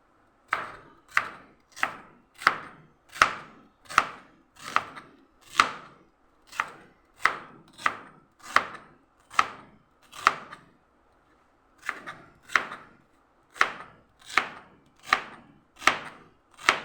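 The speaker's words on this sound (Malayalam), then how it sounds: "ഉള്ളി മുറിച്ചു" A knife chops through onion on a cutting board, about two dozen sharp, evenly spaced strikes in a steady rhythm with a short pause midway, close and clear with no talking.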